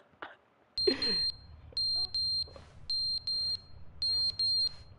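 Smoke alarms beep in The Stanley Parable, loud, sharp electronic beeps sounding in a steady repeating pattern of short bursts, with a brief voice near the start.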